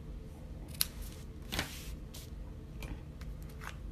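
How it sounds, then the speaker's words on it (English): Scissors snip through black paper in a few quiet, short cuts, close and faint against a soft background. "Cut the black one in half."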